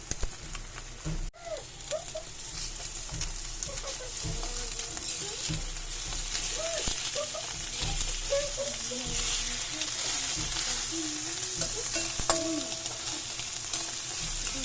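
Eggs fry in a pan with onion and tomato, giving a continuous close sizzle and crackle, with occasional stirring and utensil taps and a voice talking over it.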